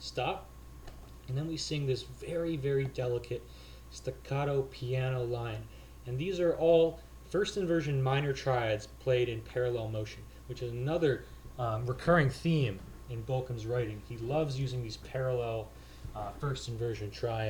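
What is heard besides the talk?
No everyday noise stands out behind the speech.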